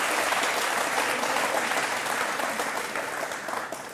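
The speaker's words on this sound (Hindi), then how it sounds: "जो अभी ताली बजाए" A TV studio audience gives steady, dense applause that stays loud throughout and fades slightly toward the end, with no voices above it.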